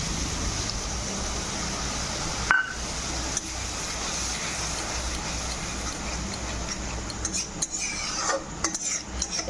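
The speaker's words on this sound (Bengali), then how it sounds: "একটু সর্ষে বাটাটা ভালো করে টমেটোর সঙ্গে মিক্স করে ভেজে নেব।" Mustard paste frying with tomatoes in a pan, with a spoon stirring and scraping against the metal. A faint sizzle runs underneath, and a sharper clink comes early on. No voices.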